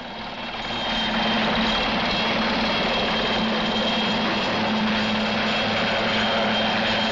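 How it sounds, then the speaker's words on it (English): A ferrying helicopter for North Sea oil rigs drones steadily overhead, its rotor and engine noise fading in and then holding loud and constant. "except for the ferrying helicopter."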